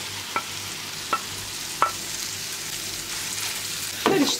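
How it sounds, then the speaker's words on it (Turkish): Steady sizzling of meat frying in butter in a pan over medium heat, with a few sharp scraping taps of a utensil stirring, ending in a brief clatter. "Yağ eridikten sonra içerisine doğradığım etleri ekliyorum."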